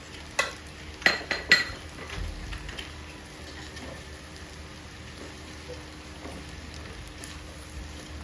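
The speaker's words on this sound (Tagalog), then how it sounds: "Haluin na lang po natin siya." A spoon scrapes and taps against a pan while fish sisig with chili and onions sizzles, a few sharp clinks early on, then a soft, steady crackle of frying.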